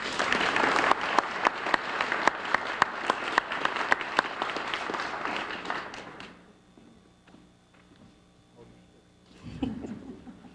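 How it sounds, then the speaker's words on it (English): A banquet audience at a Turner County, Georgia chamber of commerce event claps loudly and steadily for about six seconds, then the applause dies away into quiet room noise, with a brief burst of voices near the end. "y'all give them a round of applause"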